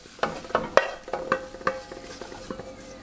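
Food goes into a hot frying pan while cooking Chinese fried rice, with a run of sharp spatula taps and scrapes over a light sizzle, close and unaccompanied by talk.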